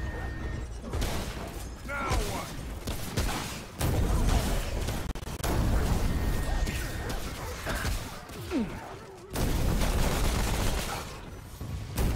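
Rapid gunfire from weapons in the shooter game Remnant: From the Ashes, loud bursts and sustained volleys with mechanical clatter, nearly continuous across the clip.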